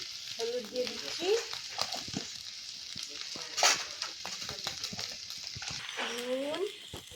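Potatoes fry in a pan with a steady hiss and sizzle while a spoon stirs in turmeric, close and continuous, with a person talking over it throughout.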